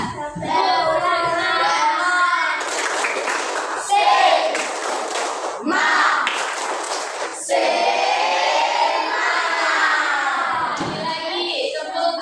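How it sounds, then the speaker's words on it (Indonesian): A classroom of children joins in a rhythmic spirit clap, bursts of clapping and young voices chanting together with a few thumps, fairly loud and close, with a teacher's voice heard between rounds. "Nah, tepuk semangat."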